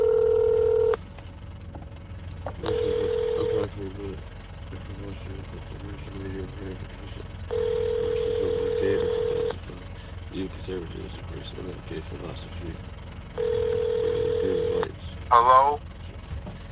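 Repeated telephone dialing and ringback tones sound through a handset inside an idling roadside assistance vehicle, with long tone bursts recurring every few seconds over a low engine rumble and brief keypad beeps near the end.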